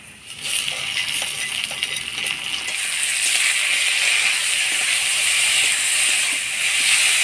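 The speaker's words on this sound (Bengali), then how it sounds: "শুটকি মাছের সাথে পেঁয়াজটা আমি লাল লাল করে ভাজি নিলাম।" Chopped onion frying with dried fish (shutki) in a pan: a steady, bright sizzling hiss that grows slightly louder and continues evenly throughout.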